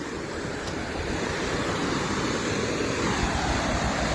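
Water of the Kumudvati river rushes past in a loud, unbroken broadband roar, with wind buffeting the microphone throughout and no voices.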